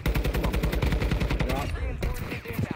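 Automatic gunfire in the video game Warzone 2 rattles out in dense, rapid bursts of shots, loud and sustained, easing slightly toward the end as a voice briefly comes in underneath.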